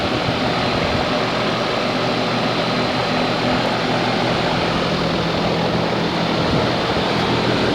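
Several 2007 American Standard heat pumps running in cool mode, a steady loud broadband whoosh of outdoor fans and compressors with a low hum, continuous and close throughout, no talking.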